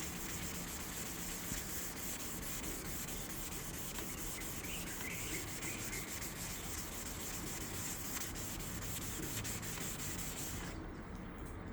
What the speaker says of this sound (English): So in a crisscross pattern, X pattern, we're just going to lightly sand.